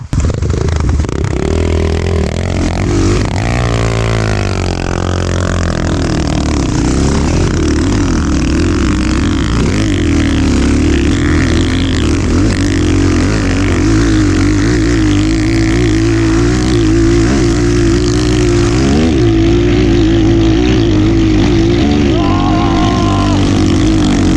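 A Chinese GEON or KOVI motorcycle with a ported cylinder head runs loud and steady, its low engine drone holding close throughout with little change in pitch.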